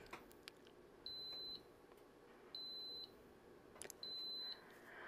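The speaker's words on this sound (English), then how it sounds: "it'll beep when it starts the time." Three evenly spaced electronic beeps, each about half a second long, sound from an electric pressure cooker in a quiet room.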